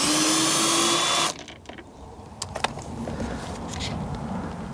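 Power driver whirring loudly on a T25 screw of the window regulator motor on a Seat Exeo, then it stops and a few light clicks and knocks follow over low background noise.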